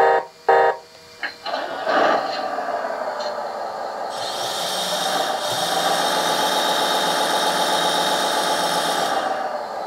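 Simulated diesel engine from the sound system of a LESU ET30H hydraulic RC wheeled excavator: a few short start-up bursts, then a steady, loud, droning hum that holds to the end, with no talk.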